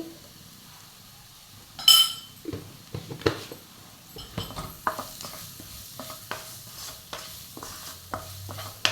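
Chicken masala with turmeric sautés in a pan for chicken mappas, with irregular scraping stirs and light metallic clinks over a soft sizzle.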